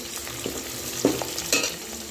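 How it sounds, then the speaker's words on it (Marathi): Onion frying in a pan for quick biryani, a steady sizzle with a few stirring scrapes and clatters near the middle and end, no talking. "तर मस्त फ्राय करून घ्यायचा आहे हा कांदा आपल्याला"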